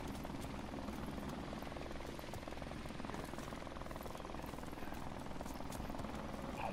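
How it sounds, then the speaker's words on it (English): A helicopter in Modern Warfare Remastered gives a continuous, faint rotor whir and thump, distant and steady, with no talking. "Hurry up for this helicopter."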